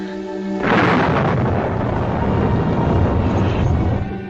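Thunder rolls during a storm in a 1946 gothic drama film, a loud sustained rumble that swells in abruptly and stays heavy throughout, with no voices over it.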